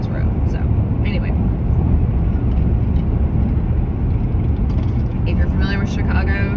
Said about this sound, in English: I apologize for all the bumpiness and noise of the car